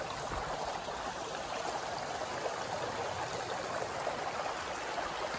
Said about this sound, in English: there's a river that's flowing all along here